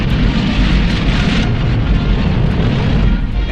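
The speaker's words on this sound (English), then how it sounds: "the huge missile takes off." Captured German V-2 rocket launching at White Sands, New Mexico: a loud, continuous roaring rumble of rocket exhaust, dense and steady with no breaks, in an old film recording.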